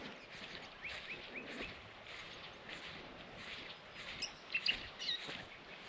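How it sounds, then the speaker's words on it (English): Distant ocean surf murmurs softly with gentle rhythmic swells at a remote beach near Onslow, Western Australia, while a few faint bird chirps break through near the end. "the only noise is the sound of the ocean in the background and the birds"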